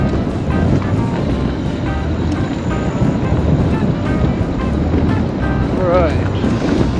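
Steady broadband wind roar buffets continuously while driving past a lakeside RV campground at Navarro Mills Lake, Texas, loud and unbroken throughout, with a brief faint whistle near the end.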